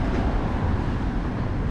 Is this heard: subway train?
yes